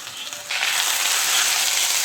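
Tomatoes hit hot oil with soya chunks and curry leaves in a Kerala fry, bursting into a loud, bright hiss that stays steady and close until it ends, with nobody talking.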